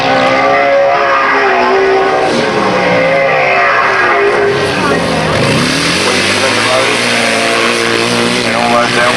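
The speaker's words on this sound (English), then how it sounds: "Hear the difference in the noise of the exhaust as they crack those throttles open." 1000cc grasstrack sidecar racing outfits roar past on a track with their throttles cracked open. The loud, raw exhaust howls rise and fall as the machines pass, with a commentator's voice talking over them throughout.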